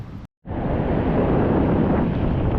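Sea surf on a beach where the shore is eroding, heard as a loud, steady wash of rushing water mixed with wind buffeting the microphone. A brief dropout to silence comes near the start.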